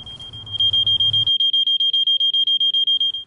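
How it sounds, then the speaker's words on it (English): A portable smoke detector sounds its alarm in a rapid, loud, steady train of piercing high beeps that continues without pause, with a brief low rumble of handling noise at the start. "It's a portable smoke detector"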